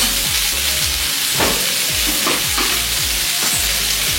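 Beans and egg curry frying in a pan, with a steady sizzle and repeated scraping stirs of a spatula at a close, loud level, with no talking.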